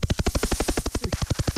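A person's voice mimics a helicopter with a rapid, steady chopping pulse of about eight beats per second, loud and close for under two seconds.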